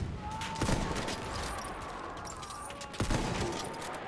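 Gunshots from Battlefield 1 multiplayer, two distinct sharp reports about two and a half seconds apart over a steady rumbling battlefield din, with no talking.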